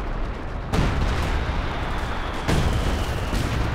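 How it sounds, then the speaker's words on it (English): An artillery barrage slams into a house in the strategy game Company of Heroes 2: two heavy, close booms, the second about two seconds after the first, each trailing off into a thick rumbling wash. "Major artillery dropped on the house."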